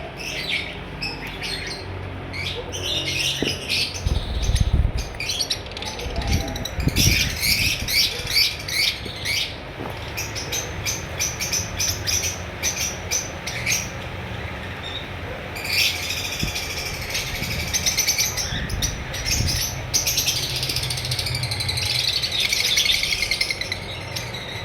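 Red-eye albino personata lovebirds, a breeder pair, chirp and squawk in quick, repeated bursts that come close and fairly loud, over a steady low background murmur.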